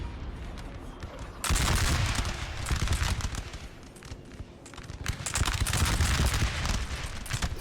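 Massed musket volleys from line infantry in a Napoleon Total War battle roll continuously at a distance, a dense crackling fusillade that swells abruptly and stays heavy, with no voices.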